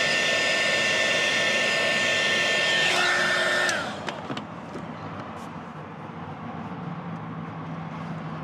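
Heat gun blowing a steady, loud hot-air whine on a 2021+ Ford Bronco dash trim piece, running continuously for several seconds before shutting off and winding down into quieter background noise.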